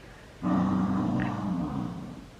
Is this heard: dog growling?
yes